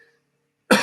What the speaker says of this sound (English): trying to get rid of my cough